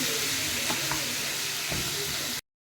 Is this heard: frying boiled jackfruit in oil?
yes